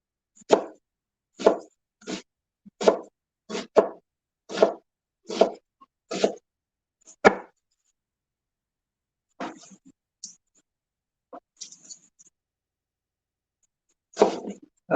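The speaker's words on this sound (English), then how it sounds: "I'm just dicing this onion" Knife dicing an onion on a cutting board for enchiladas: a steady run of sharp, close chops at a regular pace, then a pause with a few scattered taps before more chopping.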